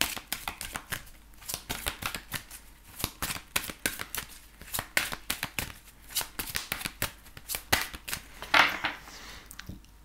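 Oracle cards being shuffled by hand up close, a steady run of quick riffling flutters and soft slaps that carries on without speech.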